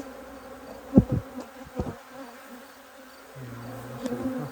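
Honey bees buzz around an open hive during queen rearing, several insects droning close by in passing swells and fades over a quiet outdoor background.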